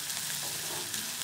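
Onion sautéing in a pan for jowar upma, a soft steady sizzle and frying hiss, faint and continuous with no talk.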